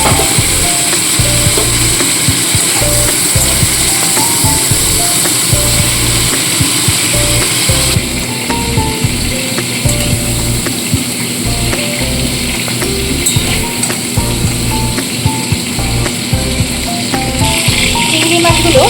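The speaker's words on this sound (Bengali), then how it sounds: "তো দেখুন জাস্ট চিংড়ি মাছ ভাজা হয়ে গেছে এবার আমি এগুলোকে তুলে নেবো" Shrimp fry in hot oil in a kadai, a loud, continuous sizzle with crackling spatter and the scrape and clatter of stirring, close up throughout.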